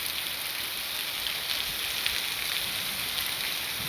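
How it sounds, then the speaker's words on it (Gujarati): Steady rain pours down at Satalpur village, Vanthli, a dense, even hiss of falling water that holds constant throughout with no voices. "સાતલપુર ગામે મેઘરાજાની મહેરબાની એક ધારો વરસાદ ચાલુ થઈ રહ્યો છે."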